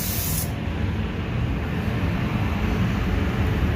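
Car paint spray gun spraying onto a fender, a steady continuous hiss held close throughout, with no talk.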